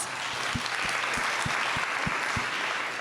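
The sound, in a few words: audience applause at real estate event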